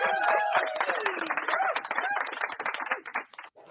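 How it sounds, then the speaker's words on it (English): Brief applause and clapping for a head coach, mixed with overlapping voices and cheers, loud at first and then thinning out toward the end. "Let me see if I got an applause"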